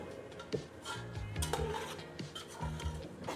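Country chicken pieces being stirred with chili powder in a pot, a close scraping and rubbing of a spoon against the metal with a few light knocks.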